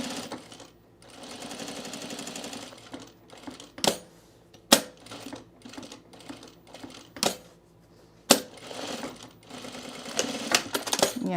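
A sewing machine stitches a zippered back pocket on men's cargo shorts, running in steady buzzing bursts with several sharp clunks and pauses between runs.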